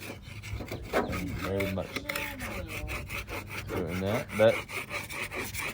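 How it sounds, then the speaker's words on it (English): A cutoff wheel grinding and sanding across the body of a truck, rasping strokes in bursts while someone talks over the work. "Am I sanding my truck with a cutoff wheel?"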